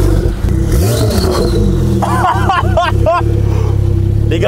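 A stage 2 Porsche 911 Turbo S tuned to 950 hp with downpipes and X-pipe, revving loudly up close in sharp blips with rising and falling engine pitch, voices murmuring nearby.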